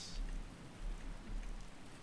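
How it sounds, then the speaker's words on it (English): Rain falls in the video game Skyrim, a soft, steady patter of drops on surfaces that stays faint and even throughout, with no voices. "Don't you just love a bit of rain?"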